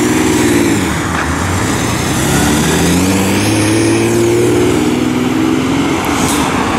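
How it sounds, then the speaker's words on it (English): A loud Honda NSX sports car engine revs and drones with shifting pitch, close by amid steady roadway traffic noise. "Loud NSX."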